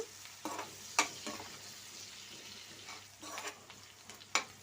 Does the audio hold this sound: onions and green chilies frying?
yes